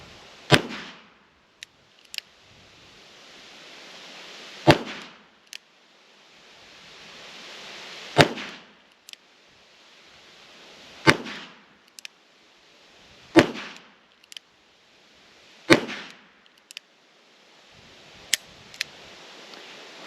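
Eight or so sharp, loud shots from a Henry Big Boy .357 Magnum revolver, fired one at a time at an outdoor range, each a crisp crack followed by a short decaying rumble, spaced a couple of seconds apart.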